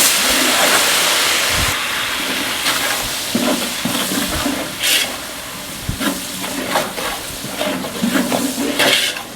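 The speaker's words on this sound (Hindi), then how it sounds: "तो अब इसमें टमाटर हम डालने लगे हैं।" A kilo of tomatoes goes into a large hot pan of chana pulao, setting off a loud, close sizzle with hissing steam and repeated scraping stirs and clunks of the spoon throughout.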